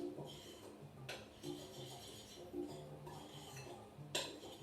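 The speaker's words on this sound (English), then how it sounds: "just use a spoon and just mix it" A spoon works through scone dough in a bowl, giving soft repeated scrapes and occasional sharper clinks against the side, faint and close with no voices.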